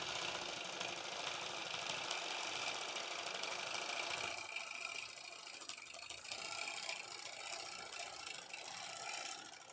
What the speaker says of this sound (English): I'm going to stitch in the ditch this section